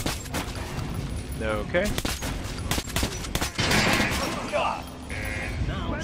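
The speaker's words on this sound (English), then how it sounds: "Try shooting with the center of the regular dummy's chest." Rapid gunfire at a training dummy in Metro: Last Light, a dense burst of loud shots with mechanical clatter, while a person speaks briefly.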